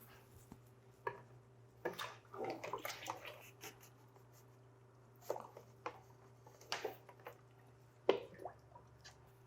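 An aquarium pump is lowered into water, making quiet, scattered splashes, squishes and drips over a faint steady hum.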